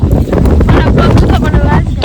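Strong outdoor wind roars steadily into the microphone, a dense low rumble filling the whole moment while voices talk over it.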